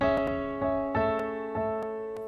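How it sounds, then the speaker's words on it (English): Sustained Steinway grand piano notes ring with soft repeating delay echoes in Logic Pro, each new strike blending into the trailing repeats of earlier ones. "I added a delay here so it sounds like this."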